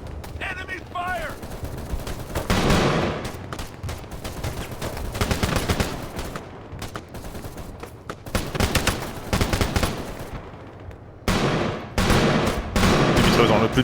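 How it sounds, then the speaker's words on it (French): Gunfire in the video game ArmA 3 crackles in dense bursts of rapid shots, with machine-gun volleys and scattered single cracks coming loud and close. A short gap falls near the middle before the firing resumes heavily. "Enemy fire!"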